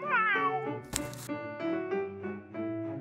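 A cat meows loudly and close several times in a row, with drawn-out, wavering cries between brief pauses and one sharp burst in the middle.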